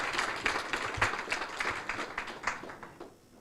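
A short burst of audience applause at a summit keynote session for speaker Kate Peterson, dense and moderately distant, fading out after about three seconds.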